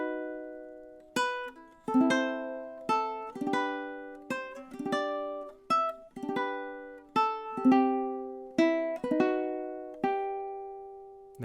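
A ukulele plays measures 10 to 13 of a Carol of the Bells and God Rest Ye Merry Gentlemen medley, plucked notes and chords ringing out one after another, quiet and close with no voices.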